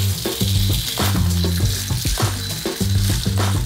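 Ptitim pasta fries and sizzles in a pan with oil and sun-dried tomatoes. The crackle is loud and steady, with rhythmic scraping of stirring running through it. No one speaks.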